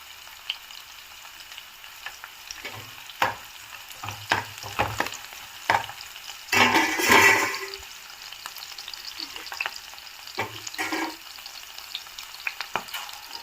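Cashews frying in a pan for Telangana-style bagara rice, giving a steady close sizzle with scattered stirring clatters and a brief louder crackle midway.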